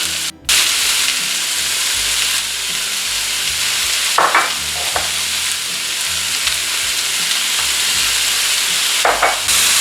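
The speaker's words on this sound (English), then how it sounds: "I'm just gonna saute this a little bit until the color of my merguez whitens up a little bit" Merguez sausage sautés with spices and garlic in a loud, close, steady sizzle that starts abruptly after a brief gap, with a few clinks of a utensil against the pan.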